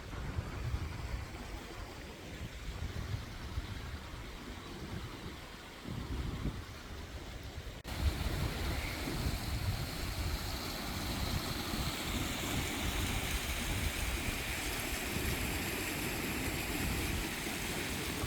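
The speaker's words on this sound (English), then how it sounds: "I'm in this beautiful place by the creek" A creek flows in a scenic outdoor spot, its broad steady rushing water noise continuous throughout, growing slightly louder and brighter partway through.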